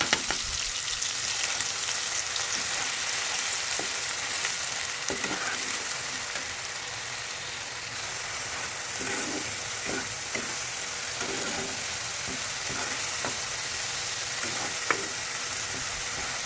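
A paste of onion, garlic and ginger frying in a pan for a paneer kalia, giving a dense, continuous hiss of sizzling with occasional faint stirring scrapes.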